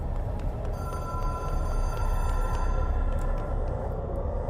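A telephone hotline rings in the video game Control, a bright electronic trill repeating steadily over a dense, low ambient drone, with no voices.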